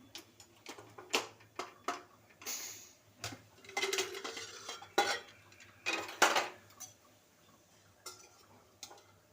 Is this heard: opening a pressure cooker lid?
yes